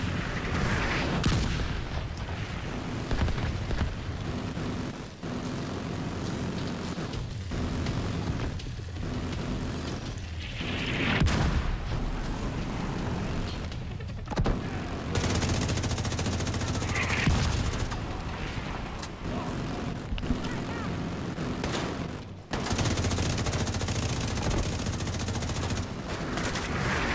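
An autocannon and other gunfire in a video game battle rattle on in dense, repeated bursts with heavy booms, loud and close, broken by brief pauses.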